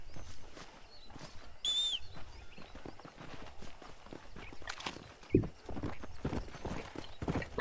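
Horse hooves clip-clopping at a walk in the Wild West game Red Dead Redemption, a steady close rhythm of hoof strikes with a brief whinny early on and a sharp louder thump midway.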